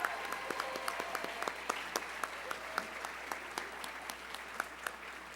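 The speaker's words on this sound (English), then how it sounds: "How about one more round of applause for all of those teachers and rookies?" Applause for teachers and rookies at an awards ceremony: a fairly quiet, steady patter of many hands clapping in a hall, with a few sharper individual claps standing out.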